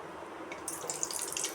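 Water poured onto soaked toor dal lentils in a kitchen, a soft stream starting partway through and splashing brightly, close and moderately loud.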